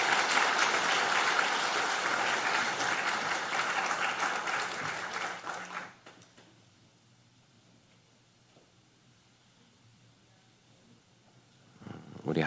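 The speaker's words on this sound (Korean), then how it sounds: "다시 한번 박수해 주십시오" Church congregation applauding, a steady dense clatter of many hands that stops abruptly partway through, leaving a quiet room hush before a faint stir at the end.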